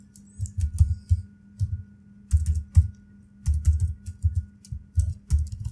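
Keys clatter in uneven bursts of rapid taps on a computer keyboard, close and fairly loud, with short pauses between runs over a faint steady hum.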